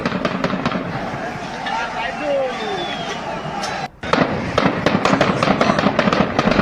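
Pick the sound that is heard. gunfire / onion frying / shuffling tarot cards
gunfire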